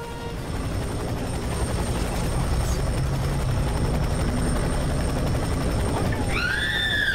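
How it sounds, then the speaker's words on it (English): Helicopter in the shooter game F.E.A.R. 3, a steady low rotor thrum with a higher engine whine running throughout, loud and close, ending in sharp rising whistling tones. "Well, that helicopter's going down."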